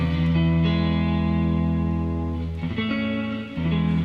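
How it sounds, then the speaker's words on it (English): A sustained chord on a Stratocaster electric guitar rings out with shimmering reverb and effects, shifting to a new voicing higher up the neck partway through. "Strats really sound nice when you play different chord voicings up the neck"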